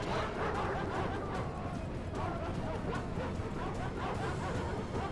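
War dogs barking and yelping amid a busy Rome Remastered battle, with a dense, continuous din of combat and repeated yips over the whole stretch.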